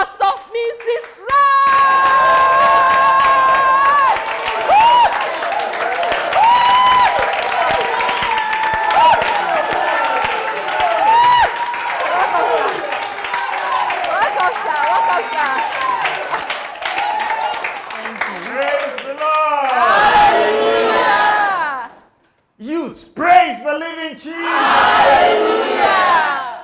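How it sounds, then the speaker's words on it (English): Church youth event crowd claps and cheers loudly and continuously, with shouts and a voice over the applause, then brief lulls and bursts of cheering near the end. "clap for Jesus"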